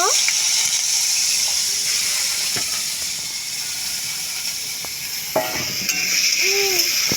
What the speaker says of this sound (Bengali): এবার আমি বাদামগুলো ভেজে নেব